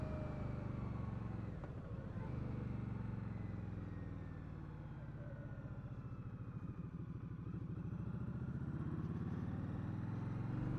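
A 2020 Indian Scout Bobber 60 motorcycle rides at part throttle, a close, continuous engine rumble that rises and falls gently with a low pulsing throb.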